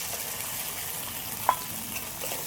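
Ground spice paste frying in a pan with onion and tomato for a fish dish, a continuous even sizzle with one small clink of a utensil midway, close and without speech.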